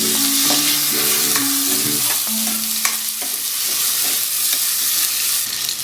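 Fresh green peas sautéing in a hot pan, a dense sizzle with repeated stirring scrapes and a few tonal metallic rings early on, close and steady, no speech.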